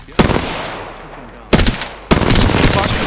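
Loud bursts of automatic gunfire in the Apex Legends battle royale shooter, three sharp onsets with rattling volleys and a decaying tail between them, close and dominant.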